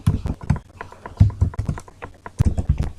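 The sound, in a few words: typing code on a computer keyboard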